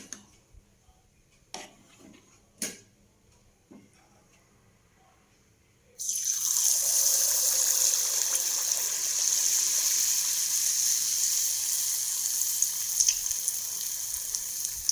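Neyyappam batter poured into hot oil sets off a loud, steady sizzle that swells suddenly after a few faint clicks and taps, then continues close and unbroken.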